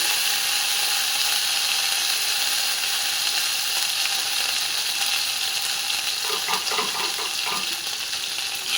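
Potatoes frying in oil with five-spice seeds in a home kitchen, a loud continuous sizzle with clattering stirring sounds toward the end, no voices.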